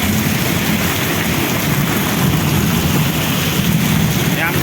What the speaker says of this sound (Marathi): बघू शकता तुम्ही किती जोराचा पाऊस आहे